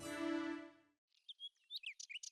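Trained parrots chirping in a palace room in a cartoon, with a burst of quick, bright, close tweets after a sustained tone fades out.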